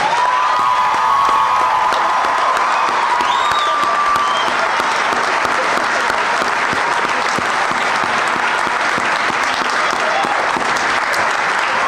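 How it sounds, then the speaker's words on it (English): A large commencement crowd applauds the graduating class of 2019 at Newbury College, a dense, loud, continuous roar of clapping with some cheering mixed in, holding steady for the whole stretch. "Let's do one more round of applause to the class of 2019"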